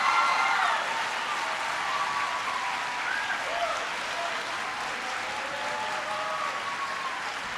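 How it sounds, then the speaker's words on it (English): An audience gives sustained applause for a school principal, a steady dense clapping that is loudest at the start and holds at an even level throughout, with a few faint voices and cheers mixed in. "please give her a big round of applause"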